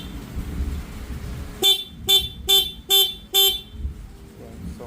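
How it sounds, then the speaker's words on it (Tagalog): A car's stock horn honks five times in a steady rhythm, each blast short and loud, close by over a low idling rumble. "Okay, so ito yung sample ng stock na busina"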